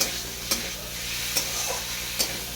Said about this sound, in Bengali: এইভাবে নেড়ে ফেড়ে খানিক্ষণ এইভাবে নাচতে থাকবো